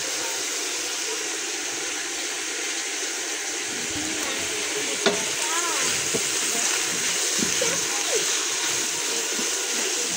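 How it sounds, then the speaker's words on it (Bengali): Dried fish being rinsed in hot water, with a steady wash of running and splashing water throughout and a few brief clatters near the middle. "ধুয়ে রাখছি গরম পানি দিয়ে, সুন্দর করে ধুয়ে রাখছি"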